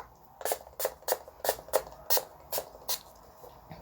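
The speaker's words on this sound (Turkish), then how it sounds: "Şimdi bir parfüm sıkacağım." A perfume body spray pumped in quick succession, about eight sharp, close puffs in a steady rhythm that soften toward the end, with no voices.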